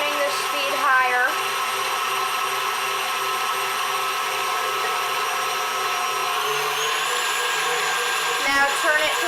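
A stand mixer beats a coconut milk ice cream mixture at high speed, a steady loud whir with shifting pitch that runs without a break and has no talk over it.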